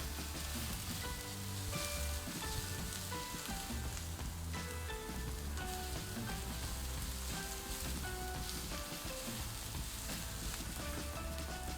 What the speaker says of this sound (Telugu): ఒక్క నిమిషం వేగిన తర్వాత కరివేపాకు వేయాలి